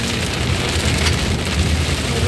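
Heavy rain, accompanied by thunder, pours down during a drive along a forest road, a dense, loud, unbroken hiss of drops drumming on a vehicle with a low rumble underneath.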